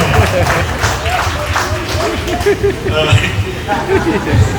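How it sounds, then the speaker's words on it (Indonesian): Applause from an audience at a gathering at the Kupang district court, clapping mixed with crowd chatter and overlapping voices, fairly loud and close throughout. "Tepuk tangan untuk Pengadilan Negeri."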